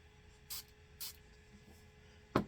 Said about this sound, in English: So we're going to spray it.